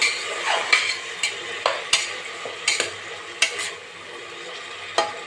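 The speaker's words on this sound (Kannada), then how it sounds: "ಹಾಕೊಂಡು ಇದನ್ನು ಸ್ವಲ್ಪ ಫ್ರೈ ಮಾಡ್ಕೊಳ್ಳೋಣ ಸೊಪ್ಪೆಲ್ಲ ಈ ಎಣ್ಣೆ ಒಳಗೆ ಫ್ರೈ ಆಗಬೇಕು" Fresh coriander greens frying in oil for vegetable pulao hiss softly while a spoon stirs and scrapes the pan in irregular, sharp strokes, close by, with no voices.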